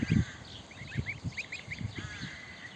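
Goose goslings peep and chirp softly in a series of short, quick calls, with a few low soft thumps mixed in, heard close and fairly quiet.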